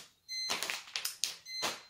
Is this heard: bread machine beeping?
yes